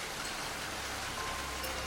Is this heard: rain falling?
yes